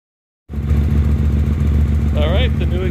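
A 2016 Hyosung GT250R motorcycle with an upgraded exhaust fires up after a brief silence and settles into a loud, steady, throbbing idle close by, with a voice talking briefly over it near the end.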